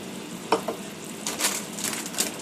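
Browned pork mince in a pan sizzling right after coconut aminos and vinegar go in, a soft steady fry with a few sharp spits and stirring scrapes, close and quiet, no talking.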